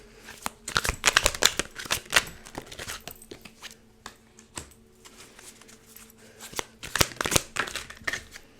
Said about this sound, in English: I'm going to shuffle them into the deck and see if they come out again.